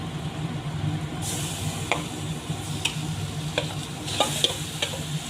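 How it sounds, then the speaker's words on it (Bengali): Mashed jackfruit and potato stir-fried in oily spice masala, a constant sizzle with sharp scraping clicks of a spatula against the pan at irregular intervals, close and clear. "এবার দিয়ে দিচ্ছি ম্যাশ করে রাখা এঁচোড় আর আলু"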